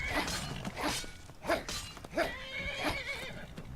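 A horse in the video game Skyrim Anniversary Edition whinnies and snorts repeatedly in short bursts, fairly close, with faint thuds and clatter underneath.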